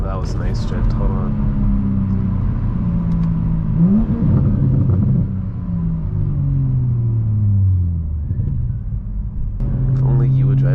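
A 500 HP 2022 Toyota Supra engine roars loud and close while drifting, with rising and falling rev sweeps over a heavy rumble and a voice talking over it.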